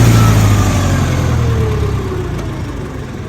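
A tractor engine runs at about 2000 rpm, a steady close drone that slowly fades and eases in loudness over a few seconds, with no voices.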